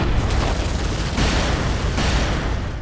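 An aging nuclear power plant explodes in a disaster film trailer: a loud, continuous, broadband roar with a couple of heavier surges, dense and rumbling, with no speech.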